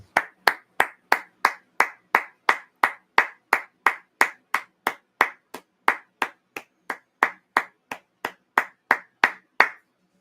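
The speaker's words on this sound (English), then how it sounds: "can we all stand for the man and give a clap?" A single pair of hands claps slowly and evenly, about two to three claps per second in a steady rhythm, close and crisp against near silence.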